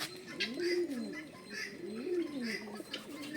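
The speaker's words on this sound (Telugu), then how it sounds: "చూసారా ఎన్ని పావురాలు, తెల్లయి, నల్లయి, ఎర్రయి." Pigeons coo at a temple, soft rolling coos repeating in two or three rising-and-falling phrases over steady background murmur, with faint chirps higher up.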